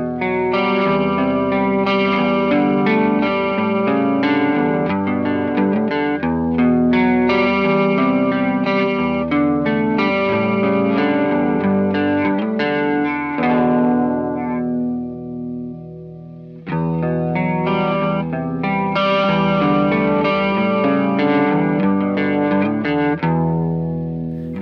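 Electric guitar through a DOD Ice Box chorus pedal, shimmering chorused chords ringing out in two phrases separated by a brief decay and pause, close and alone.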